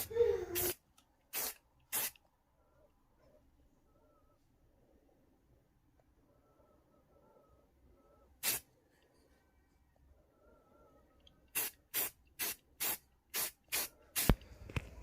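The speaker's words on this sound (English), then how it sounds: "Next we're going to prime these with a commercial primer, 2K flat gray primer." A spray can lays 2K flat gray primer onto small model stowage pieces, in short sharp hissing bursts: three at the start, one in the middle, then a rapid run of about eight near the end, close and separated by quiet.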